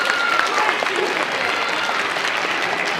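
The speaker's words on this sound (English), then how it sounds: "Let's give them a round of applause." A school audience at an eighth-grade orientation presentation claps in a loud, continuous round of applause that holds evenly from start to finish.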